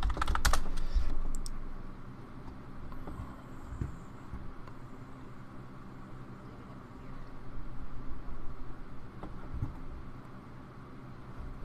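Typing on a computer keyboard while setting up a streaming app, with steady soft key clatter running through the whole stretch over a low background hum, close to the microphone.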